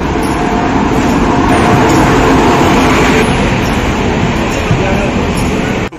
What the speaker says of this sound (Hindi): आधे घंटे पहले आ चुकी ट्रेन।